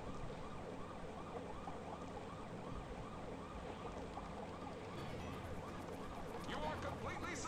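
Police car sirens in Sonic Adventure DX wail in a fast repeating up-and-down cycle throughout, close and continuous, with game sounds joining toward the end.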